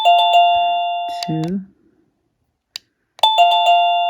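Wireless doorbell camera chime ringing loudly and close, a bright two-tone ding-dong that rings out, falls silent, then sounds again, with a brief spoken word in between.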